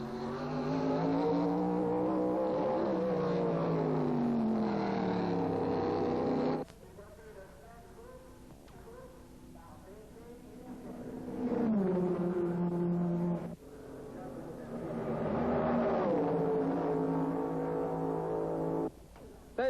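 Formula 1 race cars from 1957 at the French Grand Prix at Reims, with engines droning loud and steady and the pitch sweeping as they rise and fall, the howl dipping at times under narration.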